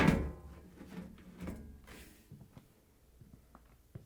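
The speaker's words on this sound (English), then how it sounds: "Slide the panel back and lift it off the washer." Sheet-metal top panel of a Samsung washer sliding back and lifting off, giving a close scraping clatter at the start, a second bump near the middle and a few faint light taps trailing off.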